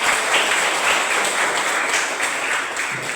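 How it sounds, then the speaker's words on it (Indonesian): Students in a classroom lesson clap together in sustained group applause, a dense steady patter that holds at an even level throughout without fading. "Benar sekali, berikan tepuk tangan."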